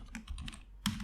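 Computer keyboard typing while entering code, a quick run of soft key clicks with a sharper, louder tap near the end, close and alone with no talk.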